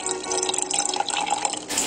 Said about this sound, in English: Add 1/3 cup of water and mix it well.